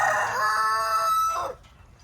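A rooster in a large backyard flock of chickens gives one loud, drawn-out crow close by, ending abruptly and leaving quiet farmyard background.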